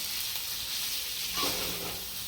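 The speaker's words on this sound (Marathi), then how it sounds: "चांगला एकजीव होईपर्यंत परतून घेऊया बटाटा भाजला पाहिजे" Potatoes frying and being stirred in a pan for sabudana khichdi, a continuous close hiss of sizzling oil with a soft stirring scrape near the middle and no talking.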